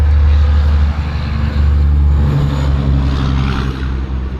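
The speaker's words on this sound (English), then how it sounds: "It is really noisy though because there's a freeway right in front of us." Steady roar of freeway traffic close by, with a heavy semi-truck passing and adding a deep, rumbling engine drone over the continuous whoosh of cars.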